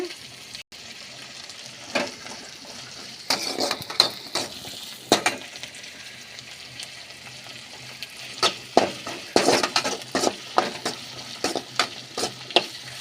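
Spices temper in hot oil for garlic chutney, crackling and sizzling steadily in a pan, with bursts of louder spattering and a few scraping stirs; no voices.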